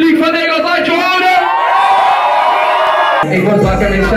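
An audience for Miss Nederland, Cheyenne, cheers and whoops loudly and continuously, with shouts rising over the crowd noise before a deeper voice cuts in near the end.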